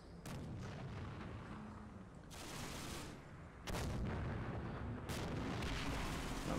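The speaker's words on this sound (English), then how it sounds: "flak wagon is going to put a couple of shots out towards the Hellcat" A flak wagon fires shots at a Hellcat in a war video game: a few loud, booming bursts of cannon fire rise over a constant low battlefield rumble.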